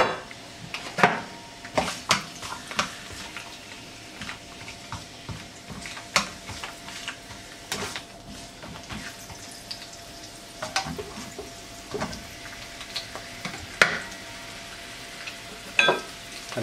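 Dandelion greens sautéing in olive oil in a pan, with soft sizzling beneath scattered clinks and scrapes of a utensil stirring against the pan, close by and intermittent.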